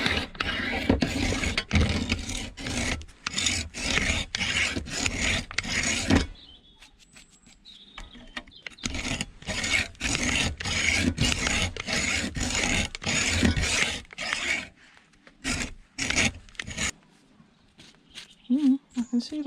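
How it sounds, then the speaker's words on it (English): A hacksaw cuts into a piece of scrap pulled from a skip, with copper inside, in rapid, loud back-and-forth rasping strokes that run in two long bursts separated by a pause with a few faint knocks. "I need my hacksaw."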